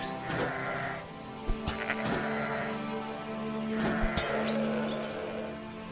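Sheep bleat repeatedly in the fantasy action game The Black Grimoire: Cursebreaker, a few wavering cries rising over steady game ambience with short sharp effects mixed in.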